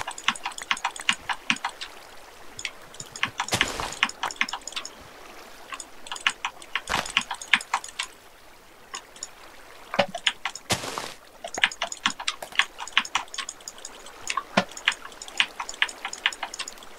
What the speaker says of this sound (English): it was the clicking sound, not the clicking action